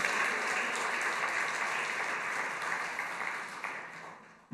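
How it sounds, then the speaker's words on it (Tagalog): Congregation in a church service claps together, a steady mid-level patter of many hands that thins out and stops abruptly at the end. "O palakpak naman sa Panginoon para magising kayo."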